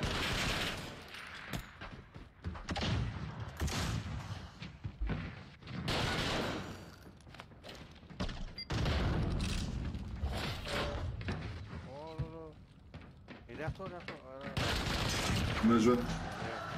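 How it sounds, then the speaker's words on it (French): Three-round burst gunfire from a weapon in a video game, rapid clusters of sharp shots among other combat noise, with people talking throughout. "c'est un rafale de 3 balles."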